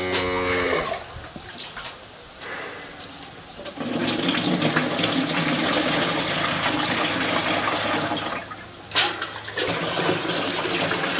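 Ten litres of water being poured for mixing an EM (effective microorganisms) solution, a steady loud rushing splash that runs for most of the stretch with a brief break near the start and a sharp surge near the end.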